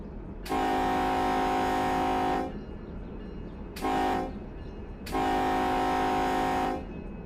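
A giant locomotive in Run 8 Train Simulator III sounds three loud horn blasts, long, short, then long, with steady rail rumble continuing underneath and between them.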